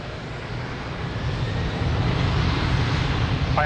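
A jet airliner roars as it takes off at Lisbon Airport, a broad, steady engine rumble that swells slightly louder over a few seconds, heard from a distance with no talk.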